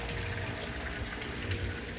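A small waterfall splashes into a little pool at a hotel in Sosua's resort district, a steady, close rushing and gushing of water with no pauses.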